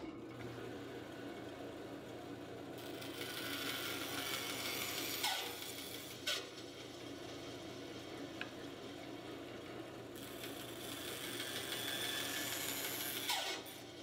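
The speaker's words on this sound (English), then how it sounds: "Then I'll come over to the bandsaw to finish the cut." A bandsaw finishing a cut on a shop-made jig, heard as a faint steady motor hum with a brighter blade hiss that swells during two cutting passes, with a few small clicks.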